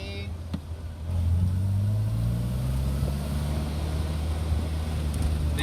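A Morris Minor Convertible drives along at low speed, its engine holding a steady mid-pitched drone with a slight rise in revs and constant road and wind noise.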